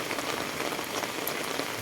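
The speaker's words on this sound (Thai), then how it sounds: "ระหว่างท่ามกลางฝนตกนะฮะ" Steady rain falls outdoors during a walk, a dense, even patter close by with no pauses and no voices.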